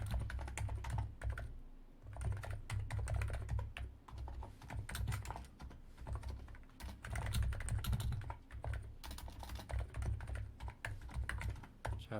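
Steady typing on a computer keyboard while writing JavaScript code for a programming exercise, with dense, continuous key clatter running the full length and no talking.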